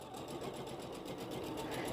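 A sewing machine stitches a quilt seam in a fast, even mechanical whir with rapid rhythmic needle ticking, close and steady throughout.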